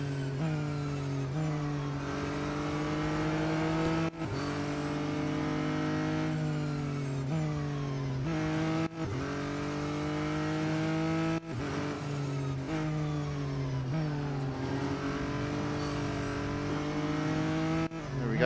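Race cars in the game Real Racing 3 drive with a continuous loud engine drone whose pitch climbs and drops sharply with each gear shift, sustained and close throughout with no talk.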